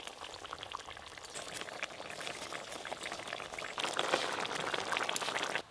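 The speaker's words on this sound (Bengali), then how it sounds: "ঝোলটা ভালো করে ফুটে গেছে" Fish curry broth with small phalui fish bubbles at a rolling boil in a pan, a steady close bubbling and gurgling that swells louder in the last couple of seconds, with no voices.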